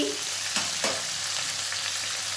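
Papaya and potato pieces frying lightly in a pan give off a constant close sizzle, punctuated by a few sharp scrapes and clacks of stirring, with no voices.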